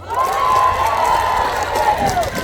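A festival audience at the riverside Sasang Riverside Festival claps and cheers steadily through the whole stretch, a dense and continuous roar with a sustained sung or shouted tone riding over it.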